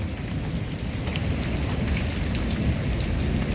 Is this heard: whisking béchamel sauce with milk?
no